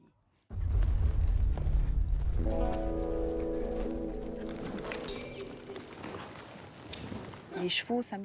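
Horse hooves thud and scuffle on an arena floor as a cutting horse works to keep a calf isolated during a cattle cutting exercise, with a low rumble throughout and a voice talking over it.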